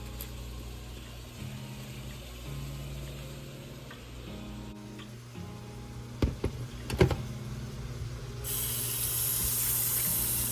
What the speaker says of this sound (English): after I got my potatoes all washed up